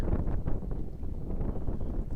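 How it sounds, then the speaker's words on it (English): Gusty wind blows across an outdoor baseball field during a middle school game, a continuous low rumbling roar buffeting the microphone with uneven surges and no voices. "Wind gusting hard out towards left field."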